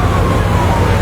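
A loud fire truck siren wailing close by over rumbling engine noise, responding to a fire in Barangay 156, Bagong Barrio, continuous and steady with no voices.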